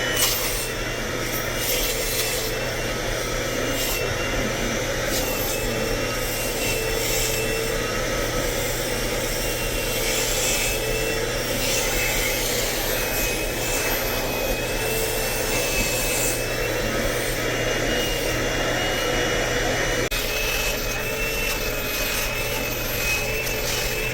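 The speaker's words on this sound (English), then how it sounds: "I'm just going through, giving them a good vacuum." A vacuum cleaner works over upholstered furniture to pull out dry soil, a continuous loud whine with rubbing and scraping as the nozzle drags across the fabric.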